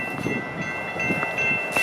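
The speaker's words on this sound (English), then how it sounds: "I haven't filmed a GO train up close in a while, especially at a level crossing" A GO commuter train rolls past at a level crossing in Scarborough, Toronto, a brief, steady, close rumble with a sustained whine, heard alone.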